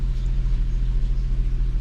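Low, steady idle of a 2006 Nissan 350z engine just after starting, a close continuous rumble with no talk.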